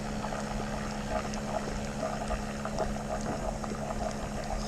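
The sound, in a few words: boat motor running unevenly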